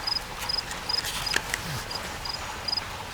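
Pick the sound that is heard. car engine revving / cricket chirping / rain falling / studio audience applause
cricket chirping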